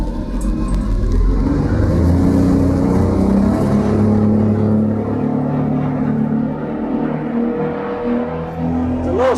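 Hanko 3096CV boat running on a single engine during a one-engine test, a steady loud motor drone with water rush close by, holding an even level throughout.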